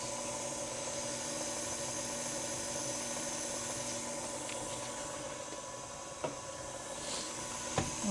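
An electric mixer beating a cinnamon and vanilla batter, with a steady, unbroken motor hum running throughout and a couple of brief clicks near the end.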